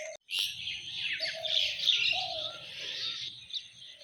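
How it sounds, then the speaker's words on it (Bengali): A crowd of birds chirps and tweets together in the morning near trees, a dense, continuous chorus of overlapping calls that stays fairly loud throughout, with no one talking. "দেখি যে অনেকগুলো পাখি অনেকক্ষণ হলো ডাকাডাকি করতেছে"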